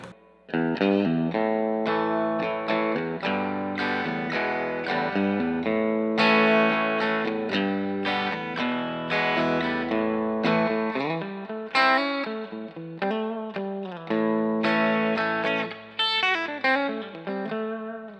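Bright, twangy electric guitar through an amp, playing a busy run of plucked notes and chords with a touch of effects, continuous and fairly loud.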